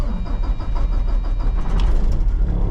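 A truck engine cranks and catches, then runs with a steady low rumble and uneven pulses from close by; no one speaks.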